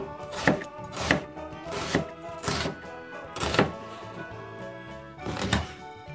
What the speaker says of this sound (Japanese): そして次は野菜を切ります。